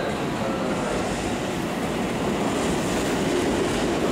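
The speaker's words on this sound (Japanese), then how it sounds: "映像は相模大野駅に入線する2000型による8両編成の急行です。" An Odakyu 2000 series eight-car electric express train rolls into Sagami-Ono Station with a steady rumbling roar and faint rail clatter, heard close by and without voices.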